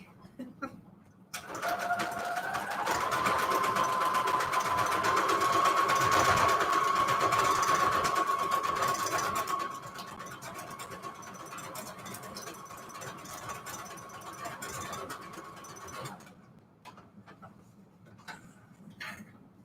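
Sewing machine stitching paper notecards with a decorative stitch, a loud steady motor whir with rapid needle ticking that drops to a softer, slower run before stopping, close up without talk.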